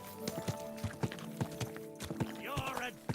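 Rhythmic hoof clip-clops from a horse at a steady walk in Kingdom Come: Deliverance 2, fairly close, with game tonal sounds and a brief whinny-like cry near the end.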